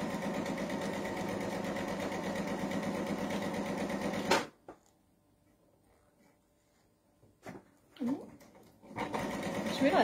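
Sewing machine stitches a quilt block seam for a Bear Paw quilt block, running steadily and close for about four seconds before stopping, followed by near silence with a few light handling clicks.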